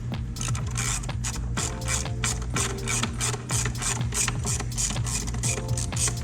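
A ratchet with a socket extension turns a mounting bolt on a BMW X2 F39, giving rapid, even clicking close by, continuous for several seconds with no talk.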